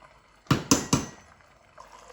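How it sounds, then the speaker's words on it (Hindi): Water is drained from partly cooked rice for chicken biryani, three quick splashing pours close by, followed by a soft trickle and faint drips. "अब यहाँ पे मैं पानी निकाल दूंगी, आपने फुल नहीं पकाने।"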